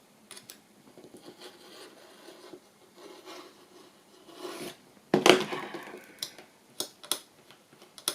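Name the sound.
trimming a Christmas journal cover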